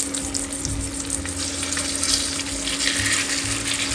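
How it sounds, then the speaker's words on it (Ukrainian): Salmon medallions fry in melted butter in a hot pan, giving a continuous even sizzle close up with occasional light spatters over a faint steady hum. "Після того, як масло розігрілося, викладаю сюди нашу рибу."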